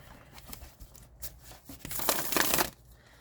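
A deck of tarot cards is shuffled by hand with soft, quiet riffling and rustling that builds to a denser flutter near the end.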